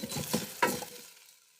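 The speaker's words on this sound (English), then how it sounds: "you can hear that sizzle going on" Browning food sizzles in an Instant Pot air fryer lid, with a brief stirring clatter and a sharper hiss that fades out quickly near the mic.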